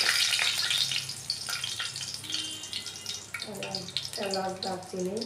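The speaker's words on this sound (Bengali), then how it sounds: "কড়াইতে সর্ষের তেল দিয়ে দিলাম। আপনারাও সর্ষের তেল দিয়ে দেবেন। এখানে একটা তেজপাতা ছিঁড়ে এখানে দিয়ে দেবেন।" Bay leaf sizzling in hot mustard oil in a wok, a steady close frying hiss that runs throughout, with a voice speaking over the latter part.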